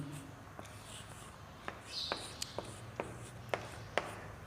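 Pen scratching on paper while a maths problem is worked out, a quiet run of short strokes and taps spaced through the passage, faint and close with low room noise behind.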